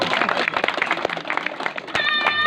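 An audience claps in a dense, continuous patter at a ward welcome gathering for a BJP MP in Mandsaur, with voices and crowd murmur mixed in.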